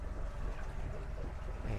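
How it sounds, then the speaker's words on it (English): A 1992 Jetcraft 19 ft aluminum boat with a Mercury 150 outboard pulls away from a dock, giving a steady low engine rumble and water wash, close and fairly loud throughout. "just pulling away from the dock here in the Jetcraft, and go give this thing a little bit of a water test here"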